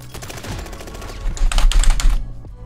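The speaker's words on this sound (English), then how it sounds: "He had a minigun." Rapid bursts of minigun fire in Call of Duty Warzone Pacific, a dense, fast rattle that grows louder toward the middle and then cuts off abruptly, with no talk over it.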